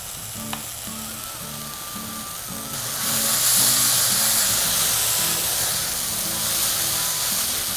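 Masala paste sizzling and frying with okra in a hot pan for vendaikkai masala curry, a steady close crackle that swells louder partway through as the paste is stirred in, with no talking.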